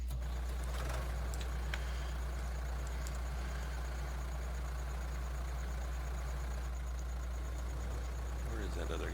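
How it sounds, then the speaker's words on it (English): A farm tractor engine idles steadily at a low, constant rumble on a barley farm in Vojvodina, Serbia, a continuous drone heard close by with faint background sounds over it. "This other tractor."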